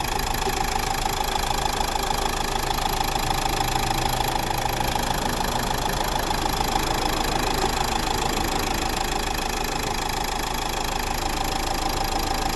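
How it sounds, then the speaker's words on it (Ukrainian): A 2011 Dacia Duster 1.5 dCi 110 hp diesel engine idles steadily with a dense, rattly clatter, close and loud, running unbroken throughout with no voices. "Ось робота двигуна."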